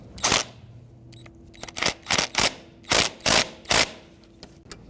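A ratchet snugs up the nut on a neutral safety switch on a 2000-2007 Ford Taurus, with quick, close, clicking strokes coming in short bursts.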